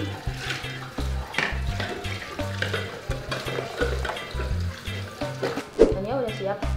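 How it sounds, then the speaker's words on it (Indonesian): Catfish frying in a pan, a steady sizzle and crackle running throughout beneath intermittent talk and kitchen clatter, fairly close. "Lelenya masih digoreng."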